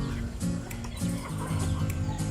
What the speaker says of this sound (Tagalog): may mga manok na